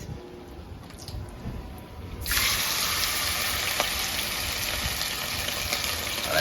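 Quiet room tone gives way to a sudden, steady loud sizzle as fish is dropped into hot oil, continuing without talk.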